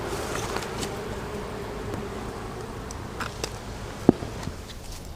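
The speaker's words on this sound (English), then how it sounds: "the bees out here in the yard that's in town, they seem to be doing pretty well" Honeybees buzzing around beehives in a town yard, a soft continuous hum of many insects with occasional closer passes and a faint tap, steady and outdoors without speech.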